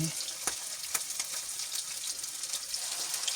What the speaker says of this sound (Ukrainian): І смажимо такі блинчики з однієї і з іншої сторони.